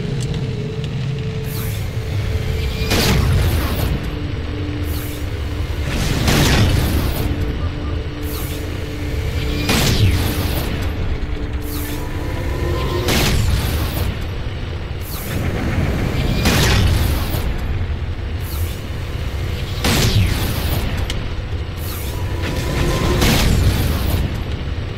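Shooting at a Pelican dropship on the Shutdown level of Halo 4, played on Legendary, sets off loud, deep explosions. About seven booms land at fairly even intervals of a few seconds, with a rumbling background between them.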